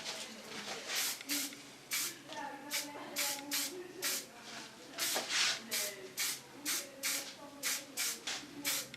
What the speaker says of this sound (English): This you have to fix with a little bit hairspray